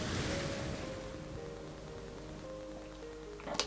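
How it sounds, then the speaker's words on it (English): Gentle water lapping around fishing and passenger boats on a lake shore, a soft continuous wash with low tonal hum underneath and a brief louder splash at the end. "fishing boats and passenger boats swaying gently as the water laps around them"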